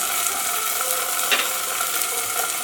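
Asafoetida, ginger paste, cumin and chopped green chillies fry in oil in a pan, with a loud, continuous close sizzle and a faint stirring scrape partway through and no talking.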